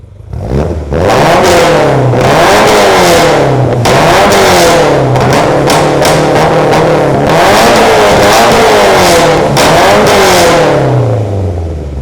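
A tuned Ford Taunus engine revs hard and repeatedly through a fully custom exhaust, loud and close, each rise in pitch followed by a drop back before it climbs again.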